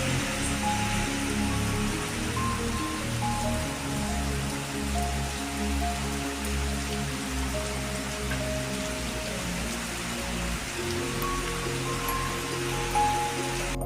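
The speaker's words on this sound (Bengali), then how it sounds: "আর তারপরে শুরু হলো মুষলধারে বৃষ্টি।" Heavy pouring rain beats down outside a window in a dense, unbroken roar of drops that stays loud and constant throughout.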